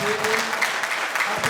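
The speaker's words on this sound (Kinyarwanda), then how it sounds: "Niwumva ubyemeye amashyi menshi cyane kuri Damascene." Wedding guests at a church ceremony applaud, a dense, close burst of clapping that holds steady for the whole short stretch.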